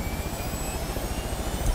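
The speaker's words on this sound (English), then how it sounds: "Our fucking helicopter didn't burn down." Helicopter in the video game Far Cry 5, a steady loud rotor and engine drone with a low pulsing chop, running continuously with no voices over it.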